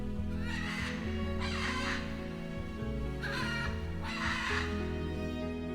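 Scarlet macaw in the rainforest giving four loud, harsh squawks at roughly even intervals over a dense, steady bed of continuous tonal background sound.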